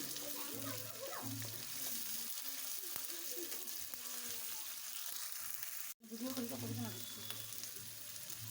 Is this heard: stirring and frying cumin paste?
yes